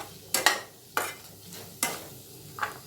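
Vegetables sauté in a pan for rava kichadi, with several sharp stirring scrapes and brief sizzling bursts spaced apart over a quiet background.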